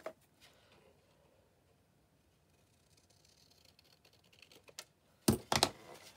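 Paper is cut for a journal page, with faint quiet handling rustles followed by a couple of crisp close snips near the end.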